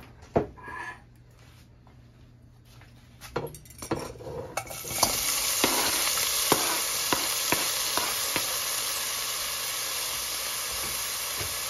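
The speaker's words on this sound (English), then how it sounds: "So let it fry up a little." Seasoned swordfish sizzling in hot oil in a pan, a steady loud frying hiss that swells after a few seconds of quiet stirring and clinks, with occasional spatters and pops throughout.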